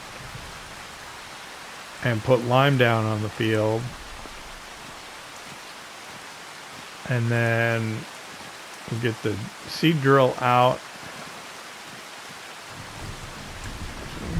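Steady rain falls in a Farming Simulator 25 game world, a soft continuous hiss running throughout while someone talks over it in several stretches.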